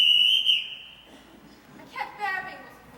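A shrill whistle blast sounds briefly at the start, then a voice speaks faintly afterward.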